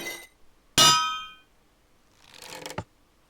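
A falling anvil in a Minecraft tower defense mod lands with a sharp, ringing metallic clang, then a softer clatter about two seconds later, alone and with no voices.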